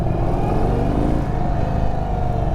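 An Indian Sport Chief RT motorcycle pulls away as the throttle engages, a loud, close engine roar that builds steadily under power with a rising whine.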